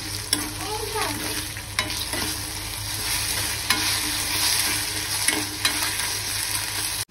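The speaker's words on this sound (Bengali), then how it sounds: "ওর জন্য একটু আলু ভাজা করে দিচ্ছি।" Sliced potatoes fry steadily in a hot pan in a home kitchen, a continuous close sizzle broken by occasional sharp scrapes and clicks of a stirring spoon, with no talking.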